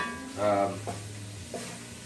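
Onions sweat in a pan over medium heat while being stirred for bourbon chicken and rice, a soft sizzle with a few scraping stirs against the pan, close by and moderate in level.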